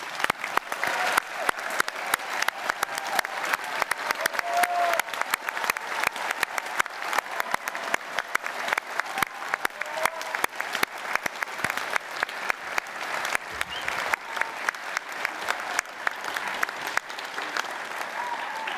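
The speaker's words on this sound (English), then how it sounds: "join me in giving our graduates a round of applause, please" A large audience at a university graduation ceremony applauds the graduates, with sustained, even clapping from many hands that fills the hall and goes on at a moderate level without a break.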